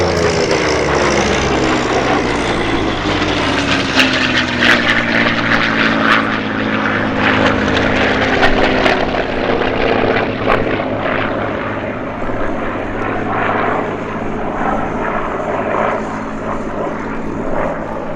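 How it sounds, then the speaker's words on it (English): A P-38 warbird, a twin-engine propeller fighter, flies past at an airshow with a loud, steady engine and propeller drone that swells and shifts in pitch as it passes, with no talk over it. "The P-38 is definitely one of my favourite warbirds."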